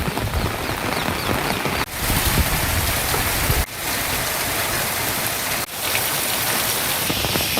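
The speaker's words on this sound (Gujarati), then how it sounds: "ધોધમાર વરસાદ પડી રહ્યો છે" A steady monsoon downpour roars close by in Chhota Udepur, India, in a thick, constant wash of rain, briefly interrupted by a few abrupt cuts.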